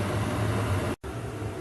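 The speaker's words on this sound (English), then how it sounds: "All the noise you hear is fan noise or burner noise." A running heater gives off a steady fan whir and burner roar with a low hum. The noise cuts out for an instant partway through, then carries on at the same level.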